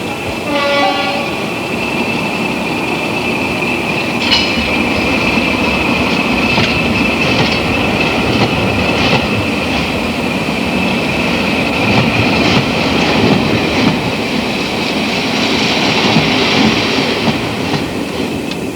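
An Orient Express train carriage rolls steadily along the rails with a constant loud rumble, faint clicking and a sustained high tone running throughout.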